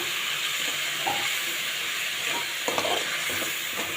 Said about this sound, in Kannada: ಹುಣಸೆ ಹುಳಿ ಹಾಕಿದ ನಂತರ ನೀಟಾಗಿ ಫ್ರೈ ಮಾಡ್ಕೋಬೇಕು.